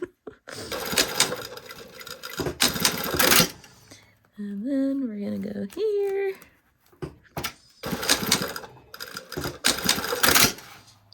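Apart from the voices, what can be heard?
sewing machine stitching pocket to zipper tape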